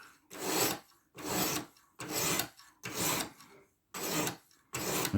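Close, crisp rasping strokes as a Sitivien ST147 knife blade of 14c28n steel is sharpened on a stone, six regular passes separated by short pauses, alone without speech.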